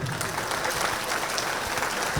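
A crowd at the Chalo Charminar vegetarian rally bursts into loud, dense applause, a steady wash of many hands clapping continuously throughout.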